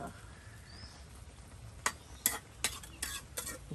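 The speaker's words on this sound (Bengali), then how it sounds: "এখন মশলার সাথে একদম উলট পালট করে দেওয়া হচ্ছে" Salted hilsa and lata curry with spices is turned over in a pot, several sharp scraping stirs of a ladle against the metal over a faint low simmer, close but quiet, no talking.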